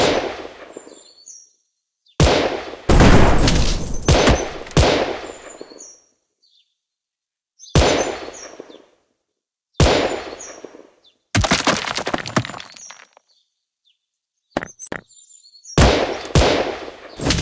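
Gunfire in the mobile shooter Gun Spirit: loud bursts of rapid shots and sharp cracks come in several separate volleys, divided by short silences, with brief metallic clinks between the bursts.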